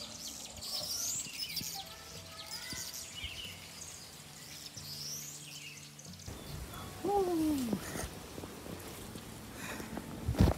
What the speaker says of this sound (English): Here you hear the noise of the birds,